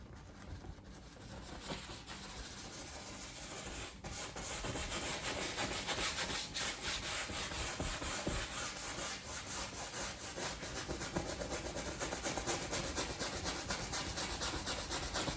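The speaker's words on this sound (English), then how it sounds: "And I'm just rubbing in a little bit of white." A brush rubbing white oil paint onto a black canvas, a steady close scratchy rasp with fine repeated strokes, soft at first then a little fuller, with no talking.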